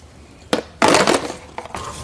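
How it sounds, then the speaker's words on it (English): Rusty exhaust bolts on a Chevrolet Cruze being struck by a tool, a few sharp metallic hits, one longer clanging burst, then two lighter knocks, close and without talk. "I might have to hit these exhaust bolts because they are very rusty"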